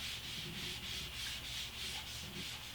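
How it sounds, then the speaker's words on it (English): Steady, close rubbing of a scrub pad over the outer surface of a Black Berkey water filter element, a continuous abrasive swishing with a gentle back-and-forth pulse and no talking. "I do want to wipe down all of the outside of the black element"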